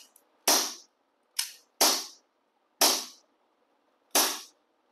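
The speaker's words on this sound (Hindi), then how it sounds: "अभी इसके अंदर BBs नहीं है तो हम इसको ड्राई फायर ऐसे ही कर रहे हैं" Five sharp, snappy clicks from an ASG 1911 US Combat BB air pistol being dry fired without BBs, spaced irregularly about a second apart, close and loud against silence.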